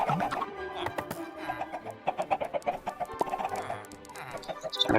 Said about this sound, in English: Just going to grab these last few chickens.